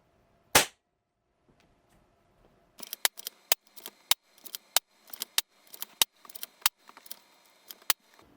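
Shots from a Diana Outlaw .25 caliber PCP air rifle: one sharp crack, then a quick irregular string of snappy pops with small clicks between, close and loud over near silence.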